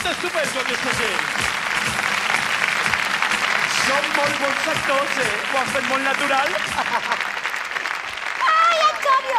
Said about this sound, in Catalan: es mereixen un fort aplaudiment perquè ho han fet estupendo, aquesta gent